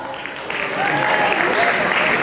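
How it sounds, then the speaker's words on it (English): An audience breaks into applause to welcome a pair of Kathak dancers, the clapping swelling over two seconds into a loud, dense wash of hands that carries on steadily. "So welcome Priyanka and Gauri. Big round of applause."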